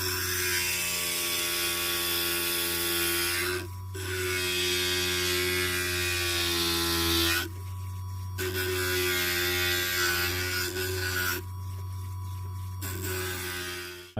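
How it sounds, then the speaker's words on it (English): Glass grinder working the edges of cut stained glass pieces, a steady mechanical whine with a low hum beneath, broken by two short pauses where the grinding stops and restarts. "My job here on the grinder was to grind away the gold lines"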